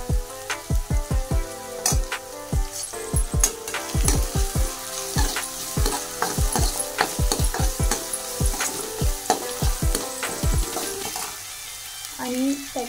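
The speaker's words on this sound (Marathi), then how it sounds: "ती पेस्ट ऍड करून घ्यायची आणि पुन्हा असं व्यवस्थित परतून घ्यायचं" Spice paste for veg biryani sizzles in a pan while a spoon scrapes and stirs it in quick, repeated strokes, a close crackling fry under a rhythmic series of sharp scraping taps.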